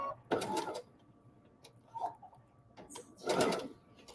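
Sewing machine with an automatic presser foot lifter, run slowly in short bursts: two louder mechanical stitching spells with a brief quieter whirr between, fairly close and with no talk.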